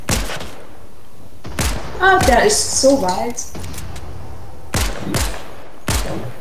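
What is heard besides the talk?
gunfire in the video game Fortnite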